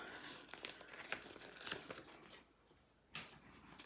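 Vinyl backing peels off a craft mug, giving crinkly, crackling rustles in irregular bursts that pause briefly before resuming, close and fairly loud with no talking.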